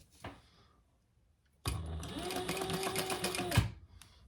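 Sewing machine stitching a travel organizer: a near, steady mechanical whirr with rapid rhythmic needle clatter for about two seconds, preceded by a small click and a quiet pause, then stopping abruptly.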